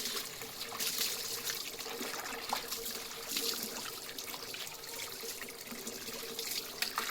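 Tap water runs steadily into a basin for a pet's bath, a close, continuous splashing trickle with occasional small drips and clinks.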